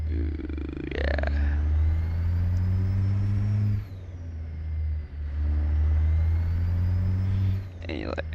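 A 1,000 horsepower truck engine in a trucking video game revs loud and close, its deep steady drone swelling and dropping with the throttle, with a brief hiss near the start and again near the end.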